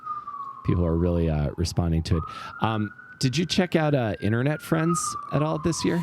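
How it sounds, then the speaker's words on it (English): A police siren wails in a New York street, its loud tone sliding steadily underneath someone talking close by. "I apologize for the police sirens."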